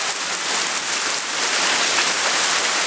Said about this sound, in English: It's alright. It's just rain.